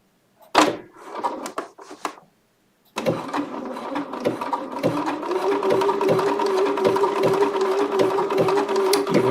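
A Bernina sewing machine runs steadily with a continuous whirring hum and rapid needle clatter, preceded by a few short mechanical clicks and knocks before the motor starts.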